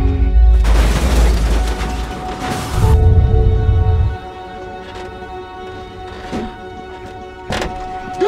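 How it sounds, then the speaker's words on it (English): A loud, sharp burst with a heavy low boom at the start, followed by a second thump and fainter clicks and hum trailing off. "Gunshot."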